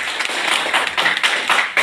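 An audience applauding during a Hindi business-plan seminar talk: a dense, loud, continuous wash of clapping lasting a couple of seconds, with no voice above it.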